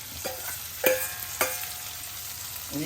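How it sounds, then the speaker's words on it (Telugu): Hot talimpu tempering poured into cabbage and raw mango dal gives a few sharp sizzling bursts and spoon clinks against the pan, crackling steadily in between, close and alone without talk. "తాలింపు ఇలా పర్ఫెక్ట్గా ఉండాలి మన పప్పులో వేసేస్తున్నాను"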